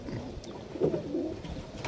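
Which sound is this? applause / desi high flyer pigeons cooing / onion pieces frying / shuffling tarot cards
desi high flyer pigeons cooing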